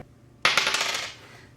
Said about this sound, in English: I roll a dice, and whatever I roll, that's how many fives we're going to put in here